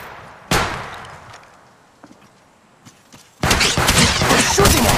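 Gunfire in the mobile shooter Apex Legends, with a sharp single shot, a few faint distant cracks, then a sustained burst of rapid close fire.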